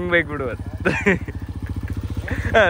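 A motorcycle engine idles with a steady, rapid low putter, close and fairly loud, while people talk over it in short bursts.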